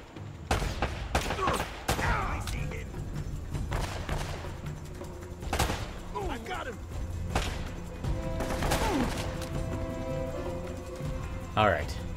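Gunfire in Uncharted: Drake's Fortune, with repeated sharp shots and short bursts spread across the stretch, some loud and close, others fainter, with a few voice fragments between them.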